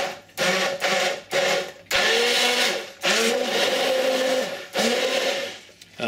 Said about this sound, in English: And we're going to take and we're going to blend all this up.